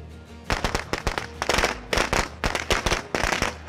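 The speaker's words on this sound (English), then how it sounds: "Let's throw the firecracker near the screamer." A thrown firecracker goes off near zombies in the State of Decay 2 video game, a loud rapid string of sharp cracks and pops in irregular bursts lasting several seconds, with no talking.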